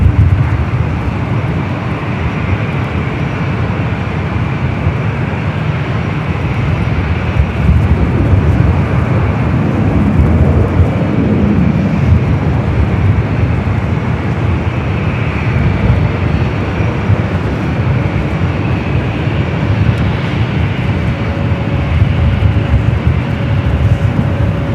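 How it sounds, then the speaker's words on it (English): A Delta Boeing 737-800 from Chicago O'Hare arrives at LAX, its broad jet rumble rising and swelling around the middle and sustained across the span, with a faint tonal whine appearing late; no talking. "Arrival is Delta, flight 2298, coming from Chicago O'Hare, 737-800"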